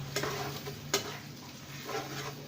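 Masala ingredients for black pepper chicken karahi are stirred in a cooking pot, with a soft, continuous sizzle and a few quick scraping and clinking strokes of a spoon against the metal, close and fairly quiet.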